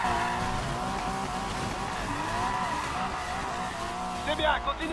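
A Porsche skids through a corner in the Need for Speed Payback racing game, with tires squealing steadily over a loud, continuous engine roar that persists for the full stretch, a brief sharper screech near the end.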